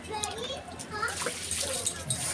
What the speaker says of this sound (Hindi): और यहाँ पे मम्मी पानी डाल रही है।